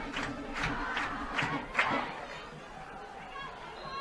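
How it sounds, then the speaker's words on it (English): Crowd noise at a high school football game, a faint, murmuring mass of voices with a few rhythmic shouts early on, heard at a distance. "Oh, there's a crowd."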